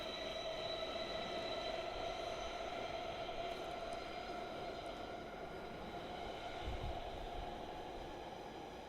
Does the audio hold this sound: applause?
no